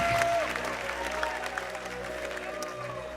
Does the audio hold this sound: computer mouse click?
no